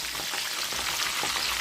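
Catfish pieces fry in hot oil over medium-high heat, a dense, steady crackling sizzle that holds at an even level throughout.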